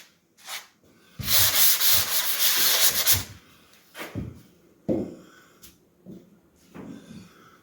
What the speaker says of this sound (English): so we're going to just sand them out